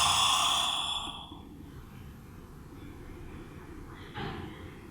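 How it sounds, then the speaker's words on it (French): A long, loud exhale through the mouth like a yawn during a yoga relaxation exercise, breathy and close, fading after about a second into quiet room tone with a faint breath later. "Et expirez par la bouche comme si vous alliez bâiller."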